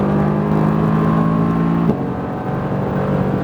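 A Mercedes-AMG GT R on a track gives a loud, steady engine drone from inside the car under acceleration, with a brief sharp shift in tone partway through before the drone carries on.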